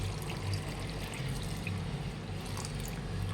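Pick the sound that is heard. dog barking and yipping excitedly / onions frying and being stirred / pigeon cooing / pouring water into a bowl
pouring water into a bowl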